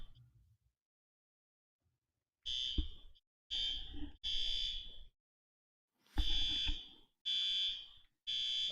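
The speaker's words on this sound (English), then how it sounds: "Have you got a fire alarm going off?" A fire alarm sounds in a room as a series of loud electronic beeping bursts with short gaps between them, first a single burst and then several more in quick succession.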